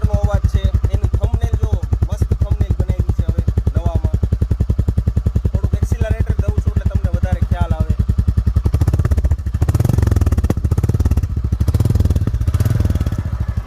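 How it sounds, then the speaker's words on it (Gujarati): A new Royal Enfield Bullet motorcycle engine idles up close without throttle, a loud, even thumping beat that runs throughout and grows rougher and louder near the end. "એન્જિનનો અવાજ સાંભળજો"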